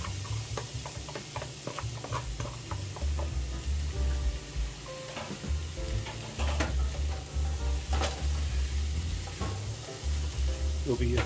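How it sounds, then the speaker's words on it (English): Tomato, portabella mushrooms and carrots hiss and crackle in a hot pan while a utensil repeatedly scrapes and clicks against it, stirring in an uneven rhythm. "next I'm stir-frying the vegetables"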